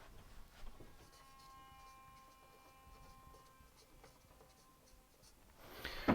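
A pen writes on paper, leaving soft, close scratching strokes at a low level with a faint steady tone behind them.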